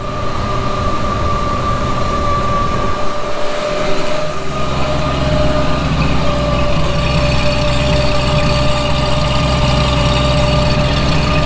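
A 1954 Chevrolet 210 V8 engine idles close by, a deep continuous rumbling throb with a slight shift in tone partway through, no voices.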